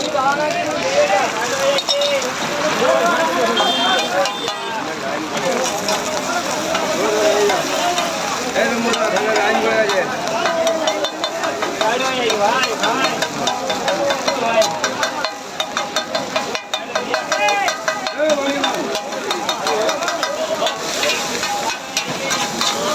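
Chowmein with a whole egg fries in oil in a pan at a street stall, stirred constantly with a steady loud sizzle and scraping, and someone talks over it throughout.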